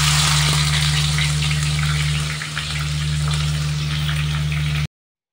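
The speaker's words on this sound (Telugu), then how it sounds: "ఆనియన్స్ గోల్డెన్ కలర్ వచ్చేలాగా ఫ్రై చేసుకోవాలి" Chopped onions frying in hot oil for chicken curry, a steady, dense sizzle with a low hum beneath, continuous and close, briefly dipping midway before stopping abruptly.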